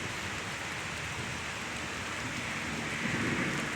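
Steady rain pours during a Friday afternoon thunderstorm in Pittsburg, Kansas, a dense continuous hiss of falling water with no thunder standing out, even and moderately loud throughout with no talking.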